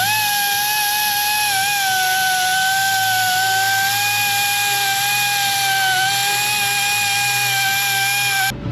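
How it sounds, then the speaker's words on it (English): A carbide cutter whines steadily at high pitch while cleaning out a perforated bolt hole on lawn care equipment, a continuous loud grinding tone that holds for the whole stretch before cutting off at the end. "we're gonna take a carbide cutter, go in there and clean up around that"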